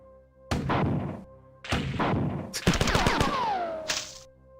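Weapons fire in the 1994 video game Marathon comes in three loud bursts of rapid shots, the last ending in a ringing, falling tone, with no talk.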